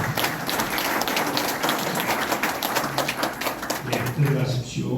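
Enthusiastic applause from an audience at a national assembly in a hall, with steady dense clapping throughout and crowd noise mixed in underneath.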